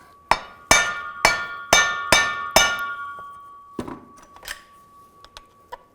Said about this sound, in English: You can take a hammer, just give it a tap.